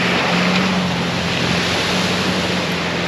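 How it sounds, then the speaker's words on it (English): Floodwater surges and rushes around trucks stuck in deep water, a loud and steady wash of churning water with wind buffeting the microphone throughout. "the water almost got up to me"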